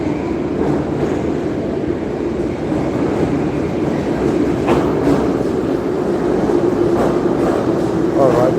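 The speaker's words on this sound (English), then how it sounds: "All right, the train is here." A train pulls into a station with a steady rumbling roar and rhythmic rail clatter, a few squeals and clicks rising over the continuous noise; no voices stand out.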